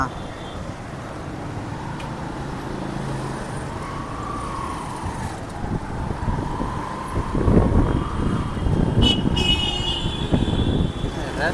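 Road traffic in Bhiwandi rumbles throughout, engines growing louder in the second half, with a horn-like tone and talking mixed in.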